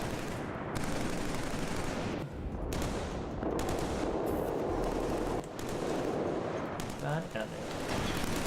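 Gunfire from shooting enemy snipers in the video game Killzone 3, loud bursts and shots in several clusters with a brief spoken phrase between them.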